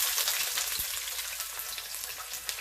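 Four garlic cloves and a small onion frying in vegetable oil, a steady close crackling sizzle with spitting pops throughout, no voices.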